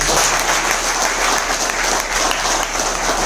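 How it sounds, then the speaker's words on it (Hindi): Loud, steady applause from a seminar audience, dense clapping that holds unbroken for the whole stretch with a faint crowd murmur beneath. "उनके लिए जोरदार तालियां हो जाए।"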